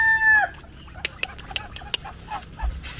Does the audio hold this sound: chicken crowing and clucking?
yes